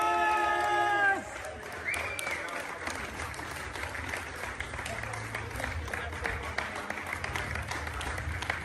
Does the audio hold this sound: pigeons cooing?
no